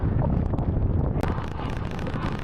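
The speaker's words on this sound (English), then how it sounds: "The gusts got too dangerous for us to continue cycling." Strong gale-force wind gusts on the Scottish coast between Inverness and Ullapool roar and buffet hard against the microphone, loud and continuous.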